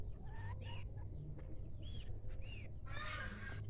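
Chickens inside a backyard coop planted with avocado, mango and soursop trees give scattered, soft clucks and short calls that rise and fall against a faint background hush.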